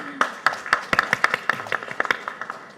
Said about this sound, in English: A big round of applause, I think, for them.